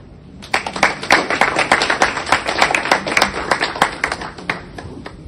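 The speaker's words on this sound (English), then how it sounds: "Can we give him another round of applause?" Crisp hand clapping from a modest crowd at an esports competition, many sharp individual claps starting abruptly and running steadily for about five seconds, close and fairly loud.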